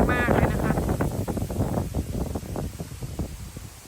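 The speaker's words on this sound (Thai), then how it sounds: "ตอนนี้ลมแรง" Strong wind buffets the microphone in loud, rough gusts out in open rice fields as a thunderstorm approaches, with a brief rattling flutter at the start that gradually eases off.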